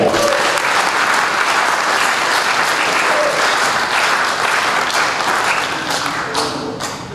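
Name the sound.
audience applause at university dinner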